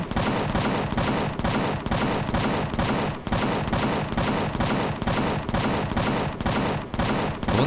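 Cannon turrets firing explosive rounds in the space survival game Empyrion: a relentless, evenly spaced string of loud blasting shots, roughly three per second, continuing without pause.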